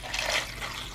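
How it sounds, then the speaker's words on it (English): Water is poured into a blender over crushed ice and frozen fruit for a homemade protein shake, a brief close gurgling trickle lasting about a second. "To that, I will be adding 2 cups of water."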